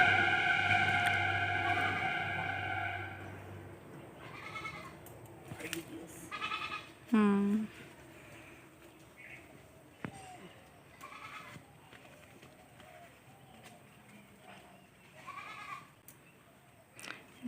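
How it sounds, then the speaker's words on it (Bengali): A goat bleats several times near a betel vine being picked, with drawn-out calls at the start and a sharp cry midway, heard among people talking nearby. "ছাগলটা সবসময় ভেবাই।"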